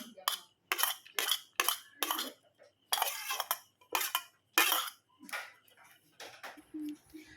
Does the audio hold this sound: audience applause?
no